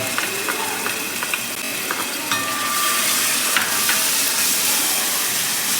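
Ginger-garlic paste frying with onions in a pan for a white vegetable kurma, a loud and close steady sizzle that swells after it is added, with faint scraping from stirring and no talk.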